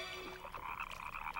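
Faint cartoon frog croaks sound in a quick, bubbling series of short, warbling calls.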